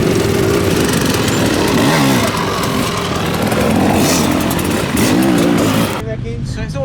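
Trials motorcycle engine revving in bursts during clutch practice, loud and close, with throttle blips rising and falling before cutting off near the end, under talk.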